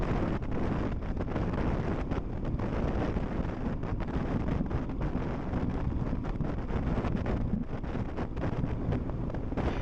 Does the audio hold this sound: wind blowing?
yes